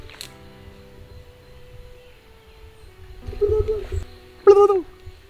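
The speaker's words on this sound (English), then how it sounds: "It's a motmot. Beautiful bird." A motmot in the Colombian Andes rainforest gives two low, hollow hooting calls a second apart, fairly close, after a quiet stretch of faint forest background.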